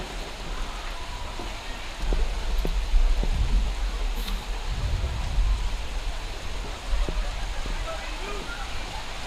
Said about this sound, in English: And the rain coming down.